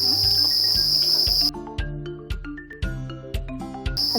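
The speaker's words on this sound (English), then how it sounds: "it's the males rubbing their wings together, trying to attract a female" Farmed male crickets chirp steadily by rubbing their wings, a dense high trill that cuts off partway while rhythmic low tones carry on beneath.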